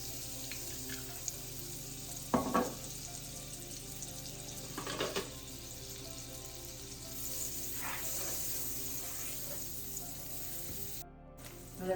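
Butter and olive oil sizzle steadily in a pan while chicken parmesan is cooked, a quiet continuous hiss with a few brief clatters and stirring noises.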